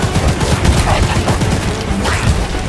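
Dense rapid gunfire from a horror video game, loud and continuous like a sustained automatic burst from a weapon being pushed toward overheating.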